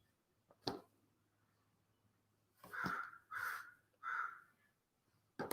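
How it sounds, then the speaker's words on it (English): A crow caws outdoors, three harsh calls in a row at moderate distance, with a soft tap or click before them and the room otherwise quiet. "You hear the crow outside?"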